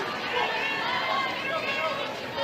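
Crowd murmur and chatter rise from the stands at a women's college softball game between Texas Tech and Arizona State. The steady, moderate babble sits under a commentator's voice.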